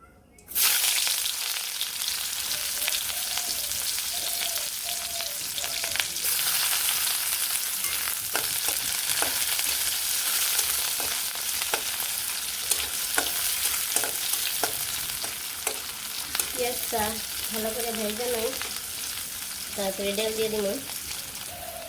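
Cumin seeds fry in hot oil with a loud, steady hiss and crackle that runs throughout, with occasional pops and faint voices talking in the background in the later part.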